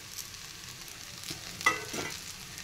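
Ivy gourd fry in a pan gets stirred, soft sizzling under a few light scraping and clinking strokes close by.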